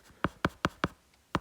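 Marker or chalk strokes while writing out a perfect complements utility calculation, five short, sharp scratches in a fairly steady rhythm with a gap before the last, close and clear in an otherwise quiet room.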